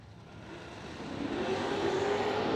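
Drag racing cars launch at a no-delay nationals event, a growing engine roar that swells from moderate to loud and holds steady over a broad crowd-and-track wash, with no talking.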